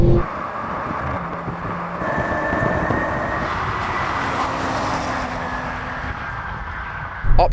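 A BMW M340i, Audi S5 and Mercedes-AMG C43 accelerate side by side in a drag race, a sustained engine roar with rising tones as gears climb, steady and fairly loud throughout, with no talk.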